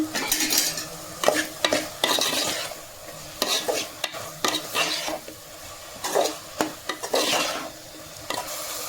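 Mutton keema fries in a pan while a spatula stirs it in repeated scraping strokes. The sizzle is loud and close, with short pauses between strokes and no talking.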